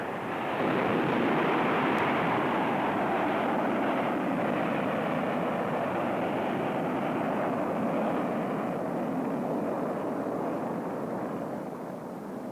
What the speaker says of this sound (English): While the rocket burned, the pilot held his course, guided only by cockpit instruments.